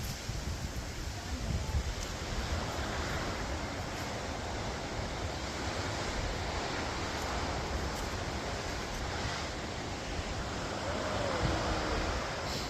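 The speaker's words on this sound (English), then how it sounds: "It is very windy, so we're not going to record a lot because you're probably just going to hear woo, woo, woo, woo the whole time." Strong wind buffeting the microphone over waves at Lake Erie, a continuous loud roar of gusts and surf lasting the whole stretch with no clear breaks.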